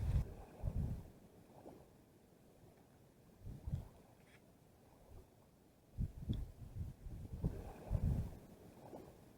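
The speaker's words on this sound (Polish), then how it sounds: "Kurde, ale wieje" Gusty wind buffets the microphone in uneven low rumbling bursts beside a lake during perch fishing, rising and falling over quiet stretches with no talk.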